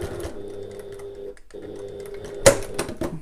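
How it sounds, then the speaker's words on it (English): A sewing machine runs in short whirring bursts, stitching a tote bag seam with a brief pause between runs, then a click and a bit of back stitching. "And then sew to this other mark and back stitch."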